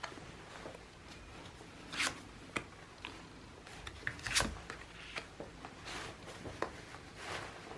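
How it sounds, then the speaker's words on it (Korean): Tarot cards are drawn from a deck, soft close rustles and slides with a few sharper flicks and snaps scattered through an otherwise quiet stretch. "추가적으로 카드를 더 뽑고 말씀드릴게요."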